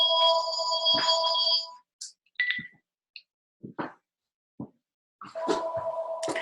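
A telephone rings in an office: electronic ring bursts at the start and end, with gaps between them holding scattered small clicks and knocks. No one speaks.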